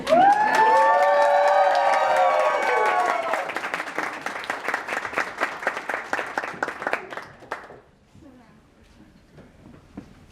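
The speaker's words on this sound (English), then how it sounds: "If anybody wants to clap, you can clap." Wedding ceremony guests clap and cheer as the bride is escorted forward, with a loud whoop and shouts at first, then steady clapping that dwindles to scattered claps before fading out.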